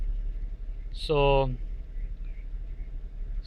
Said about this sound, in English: So right now, the engine's idling.